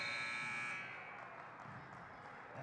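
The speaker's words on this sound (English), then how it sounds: "the quarter time buzzer will go" A loud, steady electronic buzzer sounds for the end of the first quarter at a women's college basketball game against Carleton, then cuts off, leaving the hum of the gym.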